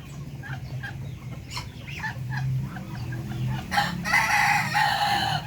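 Breeder chickens being fed coconut pulp cluck repeatedly and close up in a coop, with scattered bird chirps and a rising flurry of hen calls near the end, no talking.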